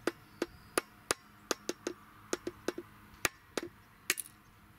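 A hammer taps repeatedly in sharp, irregular strikes on a Stihl 661 chainsaw during timing work, about sixteen close, crisp knocks with short pauses between them.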